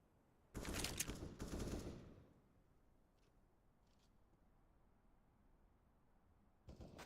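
Gunfire in CS:GO during a Vitality vs GamerLegion match, a quick burst of shots followed by near silence with faint distant pops and another short burst at the end.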